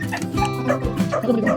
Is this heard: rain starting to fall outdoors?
no